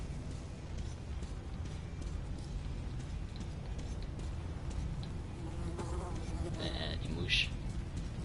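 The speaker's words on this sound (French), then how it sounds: "Des mouches." Flies buzz faintly in the video game Metro 2033, a thin, wavering insect whine over a dense low ambient hum, growing slightly stronger near the end.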